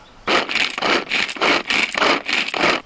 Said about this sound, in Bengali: এবার এই চপারটা দিয়ে আরো মিহি কুচি নিতে হবে